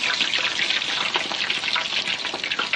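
Prawn, potato and shiso fry in hot oil, stirred about with chopsticks; a dense, steady sizzle and crackle of bubbling oil fills the clip at close range with no talking.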